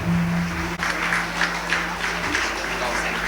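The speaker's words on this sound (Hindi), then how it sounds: "तमाम तलबा तालियां बजाते रहे" Students at a school and junior college toppers felicitation ceremony applaud, continuous clapping over a low hum with a faint voice briefly audible beneath.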